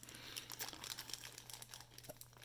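Plastic card sleeve crinkling softly as a 1984 Donruss baseball card is worked into it, a steady close rustle with small crisp crackles and no talk.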